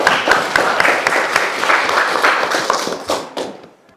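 Students in a classroom clap their hands for a classmate's correct answer, a dense burst of close, brisk claps that runs steadily for a few seconds and then dies away quickly.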